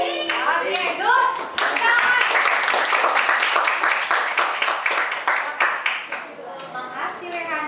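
A classroom of children claps a rhythmic patterned clap game, tepuk senyum, many hands striking together in quick bursts, loud and close, mixed with young voices chanting along.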